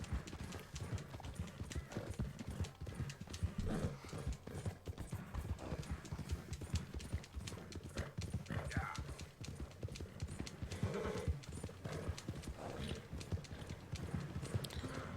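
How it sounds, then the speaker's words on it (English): A horse ridden in Red Dead Redemption 2, its hooves clip-clopping in a steady, rapid rhythm throughout, close and even, with occasional snorts and whinnies over a faint game ambience. "It takes so long just to literally ride your horse from your camp to the post office"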